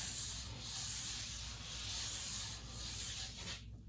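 Tack cloth wiped over wood that has been lightly sanded with 220 grit, giving a steady close rubbing swish in long strokes with slight surges, then stopping at the end.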